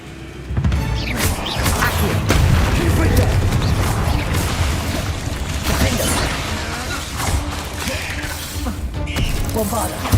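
Spell blasts in the game Hogwarts Legacy, a dense run of booming explosions, crashes and whooshing magical bursts layered with mechanical clatter, loud and continuous with a voice calling out over the action.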